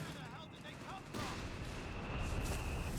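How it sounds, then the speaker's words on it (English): Heavy machine gun fire in a house in Company of Heroes 3, heard as dense distant battle bursts and booms in a continuous din, with a voice talking over it. "just one heavy machine gun in a house can really tax what you're trying to do"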